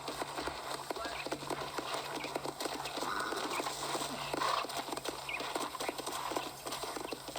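Horse hooves clip-clop at a steady walking rhythm near a ranch corral in the Red Dead Redemption video game, quiet and continuous, with voices talking over the hoofbeats.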